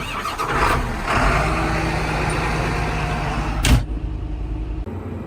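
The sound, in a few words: tractor engine starting in a farming video game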